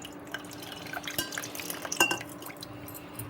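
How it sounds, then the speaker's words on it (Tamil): Tamarind water being strained through a kitchen strainer, faint scattered drips and small liquid splashes with a few light clinks of metal or glass, quiet and intermittent. "புளியை நல்லா வடிகட்டிக்கோங்க."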